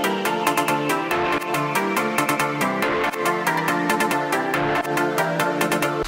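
Layered synth melody built from a super pluck, hybrid DSP and Electra sounds in FL Studio, a bright, steady rhythmic pattern of quick plucked notes repeating at an even pace, loud and alone.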